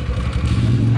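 A motorcycle engine idles roughly close by, a low steady chugging rumble with slight clatter.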